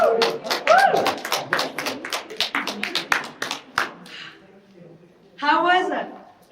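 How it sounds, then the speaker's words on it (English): A small seminar audience on raising confidence claps in a quick burst of sharp, close handclaps for several seconds, then fades, with a short cheer and voices speaking at the start and end. "Let's give this up a big applause."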